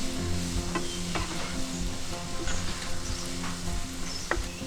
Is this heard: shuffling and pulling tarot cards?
no